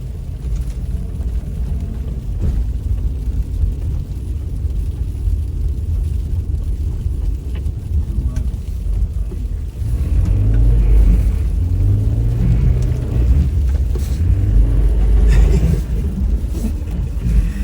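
A Subaru Crosstrek driving through snow, a steady low engine and road rumble filling the cabin throughout, growing slightly louder and heavier partway through.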